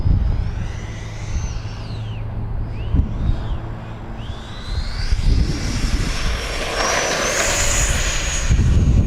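An E-flite F-16 70mm electric ducted-fan RC jet flies past overhead, its whining fan sweeping up and down in pitch as it passes, then growing into a louder rushing roar near the end, with wind noise throughout.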